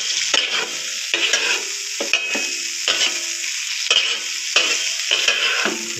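Mutton and spices, including dry coriander, are stir-fried on a tawa: a loud, steady sizzle close up, broken by regular scraping strokes of a spatula about once a second, with no voices.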